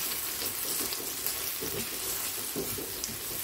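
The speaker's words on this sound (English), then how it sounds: "Them onions are sauteing nicely." Onions sauteing in a pot for a chicken curry, a soft steady sizzle and hiss with faint clinks of stirring, quiet and close, no talking.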